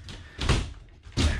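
An RV door thuds shut with a couple of dull knocks, loud and close, inside a room under renovation.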